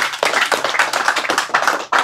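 Several people clap together in an audience at a religious study gathering, a short burst of uneven claps that stops briefly and starts again near the end.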